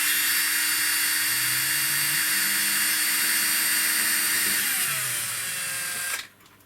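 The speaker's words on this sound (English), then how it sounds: "I'm going to drill this hole resting up against the rail." A small power drill with a 1.1mm bit boring through a model railway sleeper beside the rail, a loud steady high whine that shifts pitch partway through and cuts off abruptly near the end.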